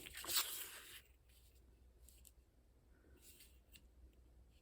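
Scissors cutting material for a DIY bead box, one loud close snip and slide near the start, then a quiet room with a few faint soft crinkles of the material.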